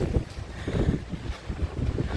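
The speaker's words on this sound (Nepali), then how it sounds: "यति डरलाग्दो हावा आयो" A strong storm wind buffets the microphone on a hillside in Kurseong, rumbling in uneven gusts that rise and fall, close and loud, with no one talking.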